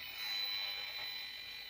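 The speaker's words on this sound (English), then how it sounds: "you can hear the high-pitched noise in the background of the meter" An RF meter picks up cell antennas from an apartment on a seventh floor and gives off a thin, steady, high-pitched whine. The tone is faint and continuous over a soft hiss, and no voices are heard.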